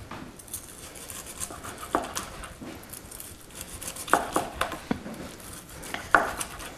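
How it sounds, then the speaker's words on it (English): A sharp knife bias-slicing a Dijon-coated pork tenderloin on a cutting board, a quiet series of crisp cuts and taps that come in a loose rhythm and grow clearer toward the end, with no talking. "You want to use a nice sharp knife for this job so that it cuts right through the coating without ripping it off the meat"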